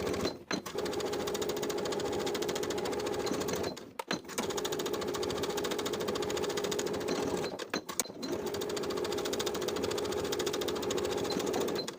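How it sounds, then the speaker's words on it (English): Rapid mechanical stitching of a sewing machine sewing box pleats on a skirt, running in three long bursts separated by brief pauses, close and steady. "I'm going to take it to the sewing machine and sew from the top to the dot"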